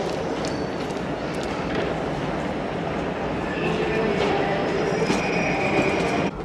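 The Orient Express train running on rails, a steady rumble with rhythmic clatter of wheels and faint metallic squeals, heard from inside the carriage while people talk over it.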